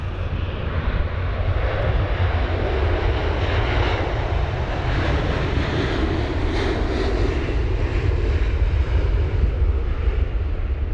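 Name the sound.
Virgin Atlantic Airbus A350-1000 airliner passing at Heathrow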